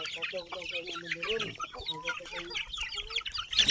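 Several chickens on a farm cluck close by in quick, overlapping bursts, a busy, chattering flock sound with high squawks mixed in.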